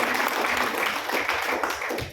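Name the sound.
applause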